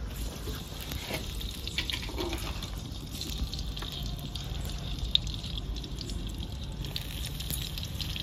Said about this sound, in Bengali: তেল গরম হয়ে গেছে বন্ধুরা, এবারে বেগুনগুলোকে ফেলে দেবো।